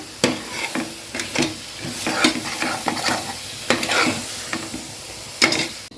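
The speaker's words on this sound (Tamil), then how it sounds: "நல்லா மசாலாவோட காளானை நல்லா கலந்து விட்டுக்கலாம்" Mushrooms tossed with biryani masala in a hot pan, irregular scraping and clattering strokes of a spoon over a soft sizzle, close and lively, with no voices.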